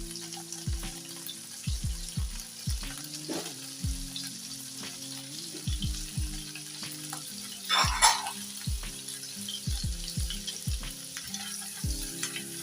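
Chopped garlic frying in a pan while pasta is cooked, with a steady soft sizzle, a few stirs, and a brighter burst partway through, set against repeated low thumping kitchen sounds.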